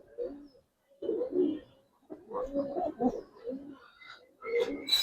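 Pigeons of a breeder's fancy flock, including silver and pearl-eyed birds, coo in several rounded, throaty phrases with short pauses, close and soft, while someone talks at times over them.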